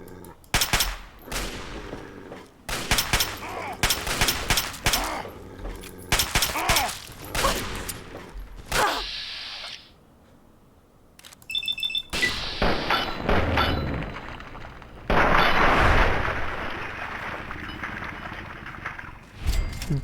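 Gunfire in the video game Fallout 3 with a hunting rifle, sharp loud cracks firing in quick rhythmic bursts, a brief lull, then more shots and a louder sustained blast near the end.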